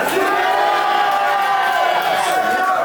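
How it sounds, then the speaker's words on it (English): Crowd at a live competition cheering for the winner, a dense, loud, continuous roar of voices and whoops sustained without a break. "if you think this fella won, cheer."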